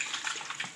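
Conch being rinsed in water, with soft, faint splashing and sloshing in a few quick uneven pulses, close by and without any talking.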